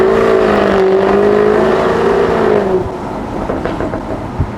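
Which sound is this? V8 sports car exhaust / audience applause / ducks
V8 sports car exhaust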